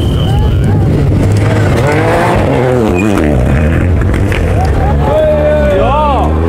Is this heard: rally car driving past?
yes